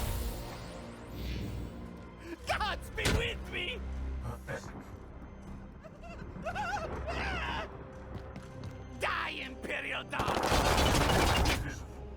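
Enemies fire at the player in the video game Warhammer 40K: Chaos Gate, sharp gunshot cracks and short bursts over a droning game soundtrack, with a loud rushing blast near the end.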